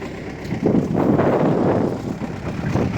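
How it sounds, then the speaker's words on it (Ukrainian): Strong wind gusts buffet the microphone beside an MTZ tractor on a ploughed field, in a continuous rough roar that swells and eases over a few seconds, with no voices. "Дує вітер дебелий."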